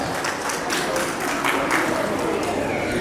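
An audience applauds marathon winners at a school's annual prize distribution ceremony, a steady wash of clapping heard at moderate distance throughout.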